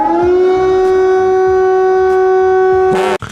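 An air raid siren wails loudly and steadily, a sustained tonal howl with layered harmonics, ending with a sharp cutoff.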